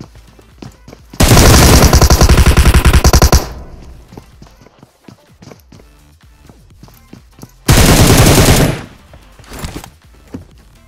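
Two loud bursts of rapid automatic gunfire from a mobile battle-royale shooter on an ancient temple island map, the first lasting about two seconds and the second shorter, separated by quieter game noise and faint footsteps.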